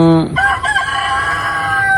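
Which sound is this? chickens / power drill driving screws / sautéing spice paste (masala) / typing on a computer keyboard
chickens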